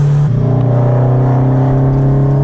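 Lowered Toyota FRS engine held at high revs near redline, a loud steady droning tone that holds constant from close inside the car.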